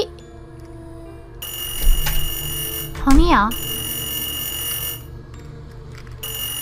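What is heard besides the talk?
telephone ringing in a horror video game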